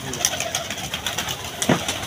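Pigeons coo softly in a loft, a few low throaty calls standing out over faint background noise.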